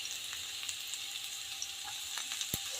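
Garlic and vegetables stir-frying in a pan give a steady, fairly faint hiss and sizzle with a few small pops and crackles, no voices over it.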